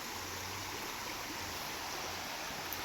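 Shallow, ankle-deep stream water in Kodagu rushes in a steady, even hiss with no break in level throughout, and no voices over it.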